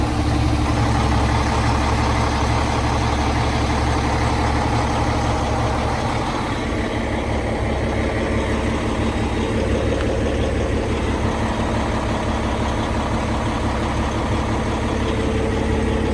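2020 Peterbilt truck diesel engine idling after a remote start, a steady, even low rumble and drone that continues unchanged throughout, heard close with no talking.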